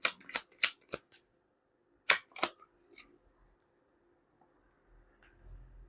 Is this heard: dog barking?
no